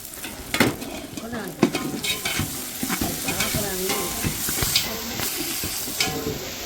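Crushed ginger and garlic sauté in a pan while Nattukoli Pallipalayam chicken masala is cooked, giving a steady close sizzle broken by repeated scraping and stirring clatters, with no talk.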